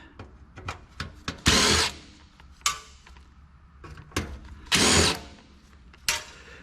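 A power driver unscrews corroded screws from an old desktop computer being scrapped, with short whirring bursts between clicks and rattling of metal parts, close up and with no talk.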